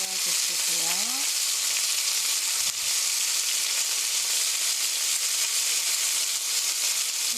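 Chicken pieces sizzle and fry in a pan for braised chicken with green onions, a loud steady hiss throughout, with a brief clatter of turning near the start.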